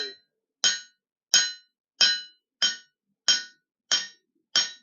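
Beveling the edge of a handmade steel knife, heard as eight bright, ringing metallic strikes at a steady, evenly spaced rhythm, each decaying quickly into silence, close and alone.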